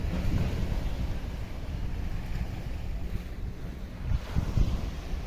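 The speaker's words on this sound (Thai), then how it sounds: "โอ้ยคือฝนมาแล้วฝนที่ตกวันนี้ฝนต้องฝนฝนหลายครับ" Heavy rain pours steadily, a dense unbroken hiss and rumble with no voices.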